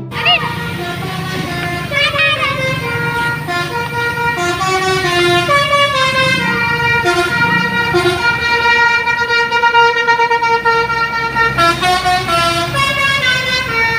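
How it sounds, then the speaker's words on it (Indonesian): Agramas bus playing a loud, continuous musical horn melody of stacked tones, with the low rumble of its engine running underneath throughout. "Bus Agramas teman-teman."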